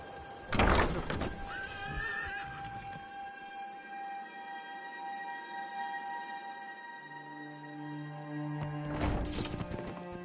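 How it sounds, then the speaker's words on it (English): A horse in a PS4 video game gives two loud, shrill whinnies, one at the start and one at the end, with sustained tonal game music and ambience between them. "The horse!"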